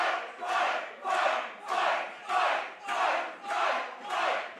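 A live wrestling crowd chants in a steady rhythmic pattern, seven loud swelling bursts of massed voices jeering a wrestler called Tripp at a Mayfield, Pennsylvania indie show.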